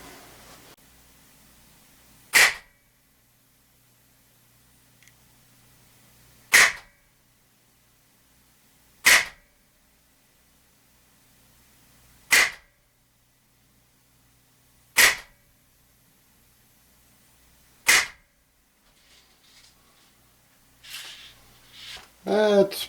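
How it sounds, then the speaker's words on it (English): Umarex Steel Storm CO2 BB pistol firing six single shots at a target 18 feet away, sharp cracks spaced a few seconds apart in a quiet room, with faint rustling and handling noise at the end. "we'll try 5 or 6 shots at 18 feet, firing singles"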